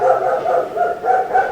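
A person's voice imitates a loud dog barking, giving a few close, rhythmic woofing bursts in quick succession.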